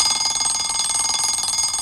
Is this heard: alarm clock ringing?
yes